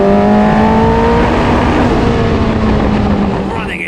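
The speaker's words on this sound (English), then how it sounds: "Running into the rev limiter that time." Toyota TS19 race car engine screaming at high revs and bouncing off the rev limiter, a loud, steady, slightly falling whine with a buzzing stutter near the end, heard up close from onboard.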